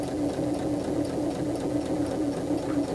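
A sewing machine stitches an automatic buttonhole with a steady, continuous motor hum and rapid needle chatter, close and even throughout, with no voices.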